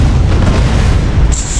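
Missile launcher rockets slam into an enemy ship in Space Engineers, a continuous deep rumbling boom of explosions rolling for under two seconds, loud and close, with a high whine rising near the end.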